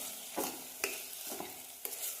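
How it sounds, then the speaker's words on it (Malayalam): Chopped ginger pieces are stirred in a frying pan over a medium flame, with four distinct scraping strokes of the spoon breaking up a steady, close oil sizzle. "ഇനി ഇതിലേക്ക് അരിഞ്ഞു വെച്ച ഇഞ്ചി കഷ്ണങ്ങൾ ആഡ് ചെയ്യാം. ഇത് നന്നായിട്ട് ഇളക്കി കൊടുക്കാം."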